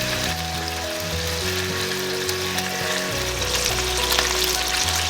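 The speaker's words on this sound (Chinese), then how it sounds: "就把它翻过来，煎另外一边。" A chicken drumstick pan-fries on low heat with a steady, close sizzle throughout. A continuous tonal hum runs underneath, and no voices are heard.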